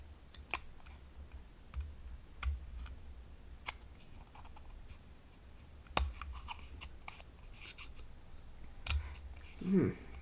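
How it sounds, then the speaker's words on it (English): Scissors cut around a craft substrate, producing a steady series of sharp close snips and clicks at irregular intervals with light handling noise between them. "remembering to twist our substrate, not our hand, because that makes for much easier cutting"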